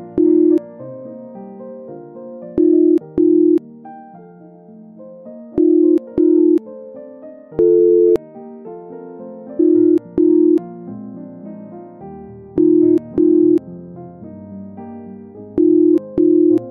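An outgoing phone call that goes unanswered: a ringback tone repeats in steady paired beeps over a melodic caller tune, continuing with nobody picking up.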